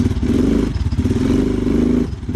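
ATV engine pulling in high range first gear, a loud close low chugging drone with rhythmic pulsing and a brief dip before it labors on.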